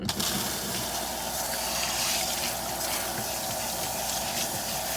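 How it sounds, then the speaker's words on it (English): Cool water running from a salon basin sprayer during a hair rinse, a steady close hiss and splash that holds evenly throughout without speech. "we're gonna use cool water"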